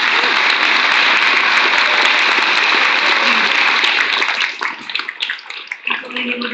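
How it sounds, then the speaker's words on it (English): An audience at the City of Fairbanks 2025 candidate forum gives the candidates a loud, sustained round of applause. The dense clapping then thins into scattered claps and fades out, with a voice starting in at the end. "So I think we should give all of our candidates a round of applause."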